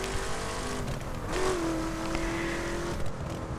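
A Chevrolet Camaro lapping a race circuit: a steady engine drone from inside the car with a rising and falling rev tone, moderate in level, and no talking.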